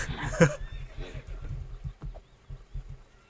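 A horse in a horror-tinged adventure game whinnies sharply near the start, then hooves clop in a steady rhythm under low background ambience.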